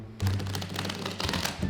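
A deck of Magic: The Gathering cards is riffle shuffled close up, giving a rapid clattering flutter that runs without a break and then ends in a short second burst.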